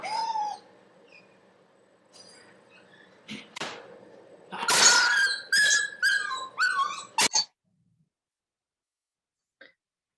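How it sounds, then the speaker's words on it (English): Dog left alone at home whining with high squeaky cries, then a burst of sharp barks and yelps near the microphone, ending abruptly and followed by a few seconds of silence. "So that is absolutely a dog with separation anxiety."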